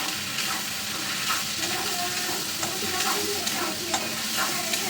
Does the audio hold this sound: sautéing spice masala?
yes